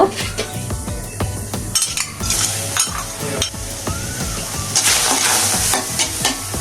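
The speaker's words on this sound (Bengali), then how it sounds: "এবার ভেতর চিংড়ি মাছগুলো দিয়ে দেব" Prawns sizzle loudly in a hot pan while a utensil stirs and scrapes, with occasional metallic clinks over the constant crackle, while cooking Bengali coconut prawn curry.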